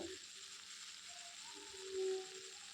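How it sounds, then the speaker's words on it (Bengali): A steady, soft sizzling hiss of mixed vegetables frying and being stirred in a pan continues throughout, fairly quiet and even, with a slight swell near the end. "সমস্ত সবজি একবারই দিয়ে দিলাম এরপরে একটু ভালো করে নেড়ে চেড়ে নিচ্ছি"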